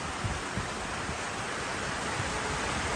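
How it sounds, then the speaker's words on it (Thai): Heavy rain pours down during a storm at a fishing hut beside rice fields. The roar is dense, steady and broadband, fairly close and unbroken, with no talking. "นั่งอยู่ในร่มแต่ต้องกางร่มนะจ๊ะดูเธอฝนแรงขนาดไหน"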